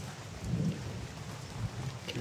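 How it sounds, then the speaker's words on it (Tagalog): A low, deep rumble of thunder in a video game rolls under steady rain, swelling early and then lingering softly. "Kumukulog."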